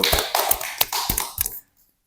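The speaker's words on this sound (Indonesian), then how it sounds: "Tepuk tangan dulu, Ibu." A small audience at an official government meeting claps briefly, a handful of sharp, separate hand claps close by that fade out to silence after about a second and a half.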